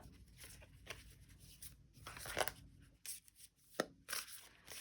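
Several quick papery riffles and flutters of cards, in short bursts with pauses between, fairly close and moderately loud.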